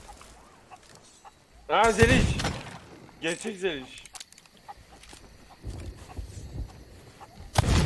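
A chicken in Sea of Thieves, aboard a ship scene, gives a couple of loud close warbling clucks amid the game's background noise, with people talking over it.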